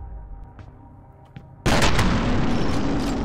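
Gunfire in the video game F.E.A.R.: after a quiet stretch with faint clicks, a sudden loud close blast hits and rumbles on in a sustained, dense roar of shots.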